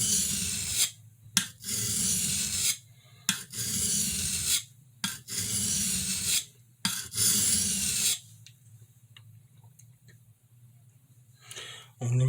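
A Schrade Woodsman knife is sharpened with blending strokes, giving loud, close rasping scrapes in a steady series of strokes with short pauses between them before the sound stops.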